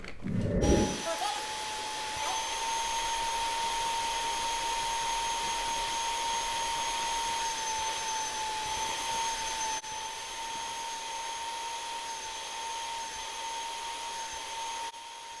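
A Bissell SpotBot upholstery cleaner running suction through its hose tool on microfiber upholstery, a steady close motor whine with a high tone that holds throughout after a brief clunk at the start.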